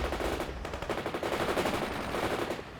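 Rapid automatic gunfire from units attacking in World in Conflict, dense overlapping machine-gun bursts rattling continuously and loudly, with a few heavier reports mixed into the battle din.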